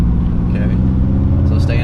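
A manual-transmission race car pulls away after the clutch is let out, its engine droning loud and close as it accelerates, with people talking over it inside the cabin.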